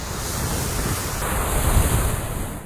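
Storm wind gusting over crashing ocean waves, loud and continuous, with heavy rumbling wind buffeting the microphone throughout.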